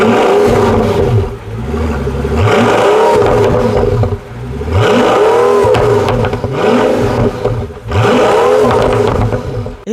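Pagani Huayra Roadster supercar exhaust revved in three loud, close bursts, each one sweeping the engine pitch up and back down in a deep roar, with brief lulls between revs.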